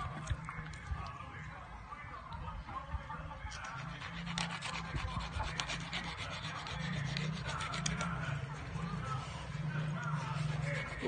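A dull knife saws through a large fish being cleaned, giving steady rough scraping and rubbing strokes close up, with a voice talking over parts of it.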